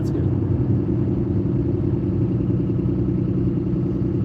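A Lamborghini Diablo fitted with an aftermarket exhaust idles with a loud, steady low rumble. The note is close and continuous, with a faint mechanical clatter in it and no voices.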